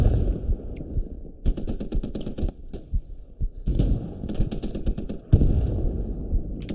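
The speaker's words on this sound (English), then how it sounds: "Shots coming east of me from those woods." Gunfire in the video game Post Scriptum arrives as repeated bursts of automatic fire and sharp shots over a low, continuous rumble, with no one talking.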